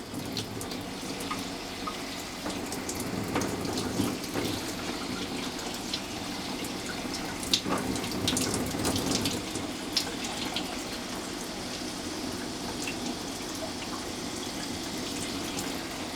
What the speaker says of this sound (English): I'm going to fill it up now with lukewarm water.